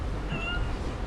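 A single short cat meow, fairly faint, rises over a steady background rumble.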